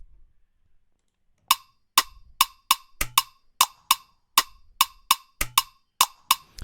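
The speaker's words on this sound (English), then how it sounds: "I added the rim. This is what it sounds like." After a brief near-silence, crisp rim shots in an afrobeats beat click out a syncopated rhythm, about a dozen sharp hits with occasional soft low thumps beneath.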